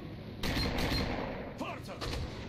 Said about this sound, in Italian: Non capisco da dove arrivano i colpi.